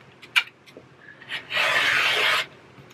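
A fabric panel for a book bag is cut to five inches wide. After a few faint taps comes one continuous close, raspy cutting stroke lasting about a second, with no talk.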